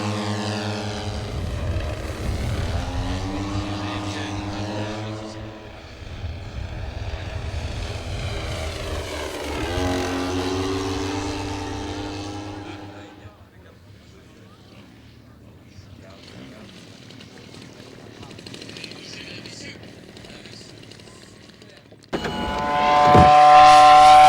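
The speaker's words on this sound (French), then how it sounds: "Ce Grumman Birkat F8F à la motorisation musclée appartient à l'anglais Glenn Masters." A Grumman F8F Bearcat with a powerful piston engine roars past at an air show at La Ferté-Alais, swelling in two loud passes, then fading to a distant drone before a close, loud burst at the end; a commentator talks throughout.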